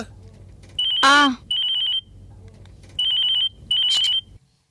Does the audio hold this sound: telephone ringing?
yes